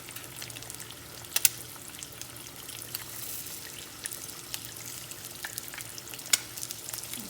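Eggs fry in a pan for keto breakfast burgers, a soft, steady sizzle with faint crackles and occasional small pops and scrapes.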